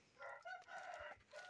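A rooster crows faintly in the distance on a farm while chicks are being weighed, a drawn-out call with a few breaks, over a quiet background.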